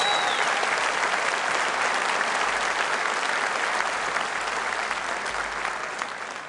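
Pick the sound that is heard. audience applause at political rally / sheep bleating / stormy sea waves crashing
audience applause at political rally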